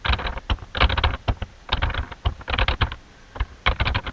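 Close, fairly loud typing on a computer keyboard while writing C# code, with irregular bursts of quick keystrokes and short pauses between them.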